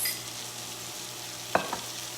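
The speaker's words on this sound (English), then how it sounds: "Let me give these a quick toss because we want that bacon fat to coat all the pieces so that they get cooked down." Green vegetables sizzle in bacon fat in a pan while a steady frying hiss runs throughout. Two brief knocks of stirring or tossing come near the end.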